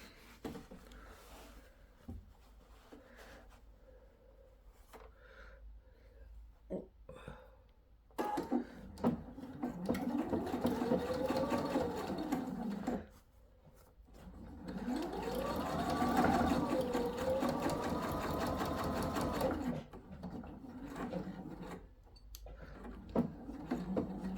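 Sewing machine stitching down the edge of a sailor hat, two bursts of steady mechanical whirring separated by pauses, with small handling clicks in between; fairly quiet and close.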